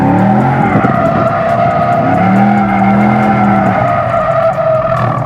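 Mustang tires squealing loudly as the car slides under throttle, sustained close screeching with tonal wails over engine roar across the whole stretch.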